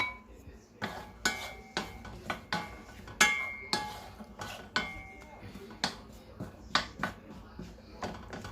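Apple pieces with a pinch of cinnamon sauteing in a pan, giving a steady run of sharp clinks and scrapes from stirring, with faint sizzle underneath, close and moderately loud throughout.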